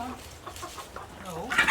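Chickens scratching and digging holes in their run, with a rooster nearby, give a few soft, close clucks and short calls spread across the moment.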